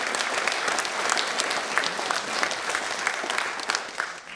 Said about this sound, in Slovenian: Ta številka pa si zasluži en aplavz.